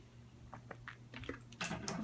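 Close, quiet swallows and gulps of someone drinking water, a few soft wet clicks building to louder gulping near the end over a low background hum.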